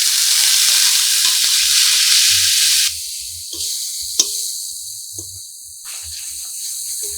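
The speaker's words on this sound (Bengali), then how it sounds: "জল দিয়ে এবার মশলাটাকে ভালো করে কষিয়ে নিই" Spice paste of turmeric and chilli powder, loosened with water and cooked with green hog plum, sautés in a pan: a loud, broad sizzling hiss that abruptly drops to a softer simmer with occasional scrapes and taps, no talking.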